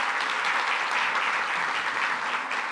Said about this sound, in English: So, round of applause for Eric.